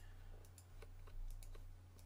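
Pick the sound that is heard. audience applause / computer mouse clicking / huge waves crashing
computer mouse clicking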